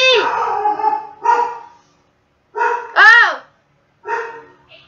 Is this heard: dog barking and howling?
yes